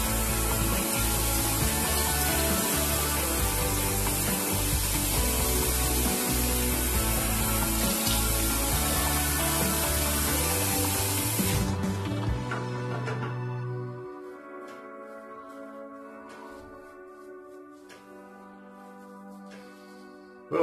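A Rex Envoy double-edge razor is rinsed under running tap water, with a loud, steady gushing spray for about twelve seconds before the flow shuts off, leaving faint clinks and quiet room tone.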